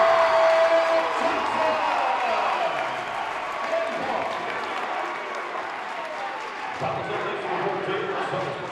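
Crowd at a boys high school basketball game, Kearney vs Lincoln High, cheering and applauding after an and-one drive, a loud sustained roar that slowly eases, with squeaks and court noise mixed in.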